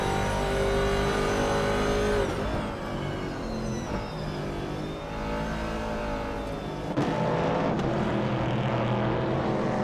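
Vintage Trans Am race cars roar continuously in a racing video game, engines revving and shifting through gears with pitch sweeps as several cars pass closely, loud and sustained throughout.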